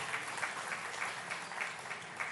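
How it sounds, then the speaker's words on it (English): Audience applause for a speaker at a business summit, a steady wash of clapping throughout with a slight pulsing rhythm, moderately loud and without talk. "Can we have a round of applause for Mr. Amitabh Kant?"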